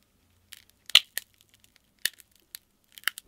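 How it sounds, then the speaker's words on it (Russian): The glass back panel of a OnePlus 11 phone cracks during a bend test, giving a close series of sharp, isolated snaps and crunches at irregular intervals, with no talking. "Со вторым изгибом нижний край задней панели трескается на мелкие кусочки."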